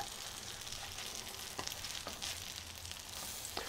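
Corn and bacon pancakes sizzle steadily in a hot frying pan just after being flipped, a close, even crackle with a few brief clicks and no talking.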